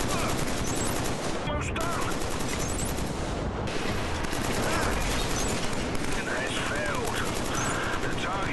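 Rapid automatic gunfire from the Killzone 3 multiplayer shooter on PlayStation, dense and continuous throughout with game effects layered over it, loud and steady.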